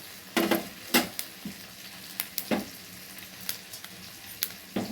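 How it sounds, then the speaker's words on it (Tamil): Onions frying in a pan for onion chutney, a soft steady sizzle broken by several sharp scraping stir strokes and light clinks of a spatula against the metal, close and moderately loud with no voices. "அந்த மாதிரி கலர் மாதிரி வர வரைக்கும் நல்லா வறுத்து கொட்டி வச்சுக்கோங்க"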